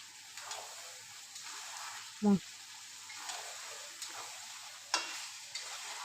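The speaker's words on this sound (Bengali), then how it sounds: "মাংসের সঙ্গে মশলাটা নেড়ে চেড়ে ভালো করে মাখিয়ে নিচ্ছি" Chicken pieces coated in spices are stirred in a pan with a soft, steady frying sizzle, broken by one brief scraping knock of the spoon and a few fainter scrapes, all quiet and close.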